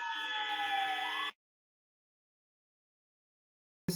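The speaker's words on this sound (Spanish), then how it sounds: "Un rato que pase el sonido de la sirena y comenzamos" A loud electronic siren wails close by with a bright, buzzy tone whose pitch sweeps, then cuts off sharply and leaves near silence. A brief noise follows at the very end.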